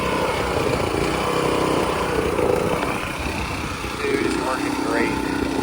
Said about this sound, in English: It's our tiller we got, 22 inch, I think 209 cc, no 224 cc Champion.